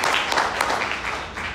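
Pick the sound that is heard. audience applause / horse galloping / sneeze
audience applause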